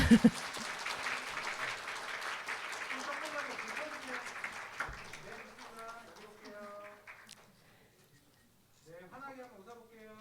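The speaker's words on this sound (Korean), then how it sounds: "객석에 계신 분들은 큰 박수 부탁드립니다" Audience applause at a library award ceremony fades out over the first seconds as a presenter's voice and light laughter take over, followed by a brief stretch of near silence.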